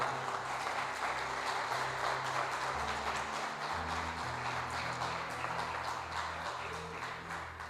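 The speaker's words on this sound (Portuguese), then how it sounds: "Você pode aplaudir ao Senhor" Congregation applauding in a church during a Bible study on Genesis, steady dense clapping throughout, with a low tonal hum or music beneath.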